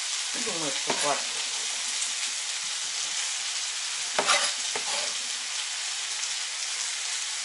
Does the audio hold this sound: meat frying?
yes